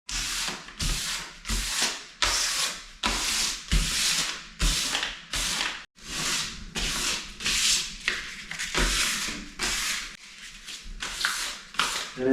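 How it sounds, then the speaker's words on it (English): Stained wood is lightly sanded by hand with 400-grit sandpaper in straight lines, giving a close, regular series of short scratchy strokes, about a dozen and a half back-and-forth rubs with brief pauses between. "I have 400, which I'm gonna use. Just lightly scratching the surface with this one and then wiping it off."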